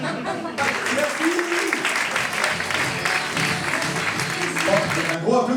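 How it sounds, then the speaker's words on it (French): A comedy-stage audience claps in a loud, dense, sustained round of applause that starts abruptly, holds steady for about five seconds, then cuts off. "Un gros applaudissement à Benoît!"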